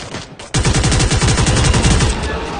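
Rapid video game gunfire bursts out after a short pause, a loud run of evenly spaced automatic shots that keeps going to the end.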